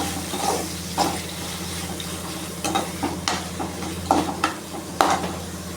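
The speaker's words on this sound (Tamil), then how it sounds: "அந்த வெங்காயத்தையும் சேர்த்துட்டு சேர்த்து நல்லா வதக்கிக்கலாம்" Small onions sauté in a pan for mutton pepper fry, a soft sizzle broken by several sharp stirring clacks and scrapes at irregular intervals, close by over a low steady hum.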